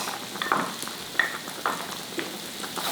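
Six big garlic cloves sizzle in a skillet, a soft steady frying hiss broken by a few light scrapes and taps of stirring, moderately close and not loud.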